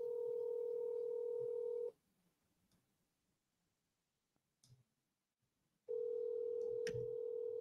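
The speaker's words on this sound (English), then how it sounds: "Can you hear it ringing?" A steady telephone ring tone sounds in two long bursts separated by a quiet pause with faint clicks, heard over a phone line.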